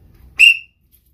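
A single short, sharp blast from a small whistle carried as everyday carry gear, loud and close, followed by silence.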